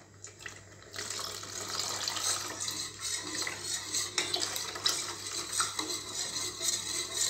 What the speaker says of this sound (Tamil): நான் பால் ஆட் பண்ணிக்கிறேன்